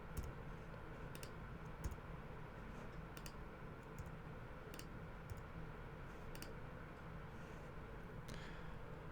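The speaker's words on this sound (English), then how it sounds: "simply hit the slash key on your keyboard" Faint, scattered clicks of computer keyboard keys being pressed while working in photo-editing software, irregular taps spread over a quiet room with low background noise.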